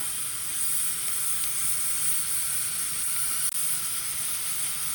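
Water sizzles steadily in a hot pan while pumpkin risotto with dried beef cooks, a continuous loud hiss with no talking.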